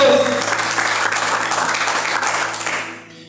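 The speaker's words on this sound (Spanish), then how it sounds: "Denle fuerte aplauso al Señor." A church congregation at a Bible class applauds loudly, a dense burst of clapping that fades out over a few seconds, with voices mixed in.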